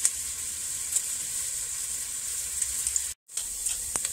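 Onions for chorizo beans and rice sizzle steadily in a pan, a close, continuous bright frying hiss with occasional soft stirring clicks and a brief cut near the end.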